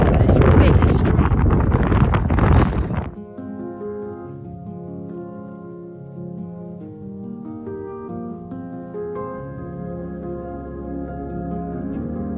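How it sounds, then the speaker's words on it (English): Wind buffets an outdoor microphone hard for about three seconds as a loud roar, then cuts off to a much calmer background with low hum. "Come down out the wind."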